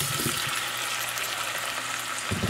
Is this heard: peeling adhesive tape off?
no